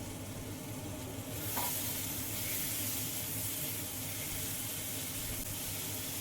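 Fried chicken pieces drop into spice paste and hot oil for a South Indian–style chicken curry, and the steady sizzle swells into a brighter, louder hiss and crackle that carries on as the pieces are stirred.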